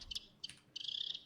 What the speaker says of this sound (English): how to work with natural animal sounds such as birds